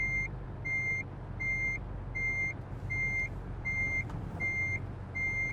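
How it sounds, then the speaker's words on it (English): A truck's reversing beeper in American Truck Simulator sounds a steady series of evenly spaced electronic beeps, about eight in a row, over a low continuous engine rumble. "Why is that reversing beeper staying on?"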